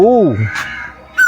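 A koel calls near a shrine in Soon Valley, Naushera: a human voice first imitates its rising 'oo' note, then a short clear whistled call cuts in at the end, with background murmur between.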